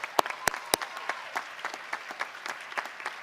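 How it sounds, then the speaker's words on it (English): Graduation crowd at a high school ceremony claps for family members in attendance, with a few sharp, close claps at the start over a thinner, uneven spread of applause that continues throughout. "Thank you for this applause para sus familias que aquí están presentes"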